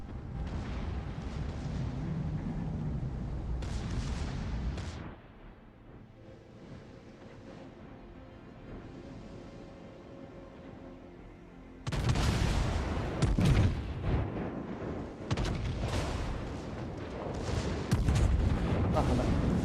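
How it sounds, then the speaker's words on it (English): Deep booming salvos of high-explosive shells from the battleship Hawaii in World of Warships: Legends, heavy rumbling blasts at the start and again in a louder stretch near the end, with a quieter gap between and a voice talking over it. "That's an Hawaiian firing HE at a battleship that's a kilometre off the side of it."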